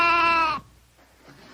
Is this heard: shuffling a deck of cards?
no